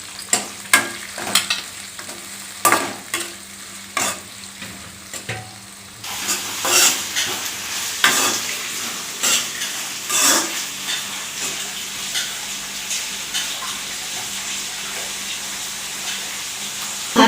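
Green chillies and onions fry in a pan for sambar, giving a steady sizzle broken by frequent sharp scraping strokes of a spatula that grow denser partway through as the frying gets louder.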